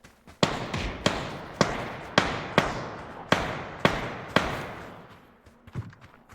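An M4 rifle fires in the video game PUBG as single, evenly spaced loud shots, about eight in all, each with a short decaying echo tail.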